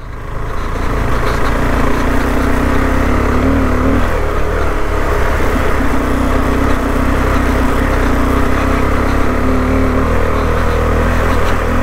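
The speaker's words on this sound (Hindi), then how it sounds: "और बाइक चढ़ गई अपनी कोई दिक्कत नहीं" A motorcycle engine labours loudly and steadily as the bike climbs a steep mountain road toward a high Himalayan pass near Hanle, a continuous close drone with slight shifts in pitch.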